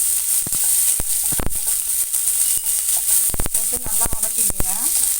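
Garlic sautés in hot oil in a pan with a constant bright sizzle punctuated by sharp spatula taps and scrapes against the metal, plus brief faint murmurs near the end.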